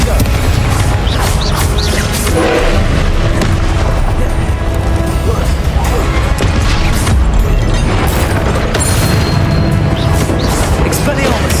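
Loud, continuous Confringo spell explosions in Hogwarts Legacy, booming hits and crashes stacking over busy combat effects and music, without any speech.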